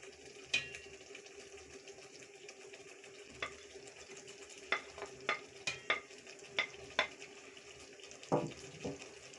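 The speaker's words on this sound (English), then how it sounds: "Then stir them to mix well." Fried onions are being stirred into chicken biryani in a pot, with soft scraping and gentle sizzling, and scattered spoon knocks and clinks that grow more frequent toward the end.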